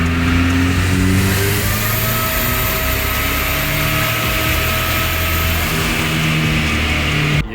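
A Ford SVO engine on a dyno with Holley EFI, held at a loud sustained high rev for several seconds with rising harmonic tones before cutting off abruptly at the end.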